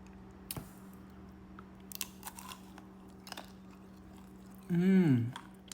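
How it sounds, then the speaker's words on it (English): A few sharp, crisp crunches from biting into a chocolate-coated vegan ice cream bar, close up and spaced apart, followed by a short hummed murmur of approval. "it's very, very crunchy when you bite into it"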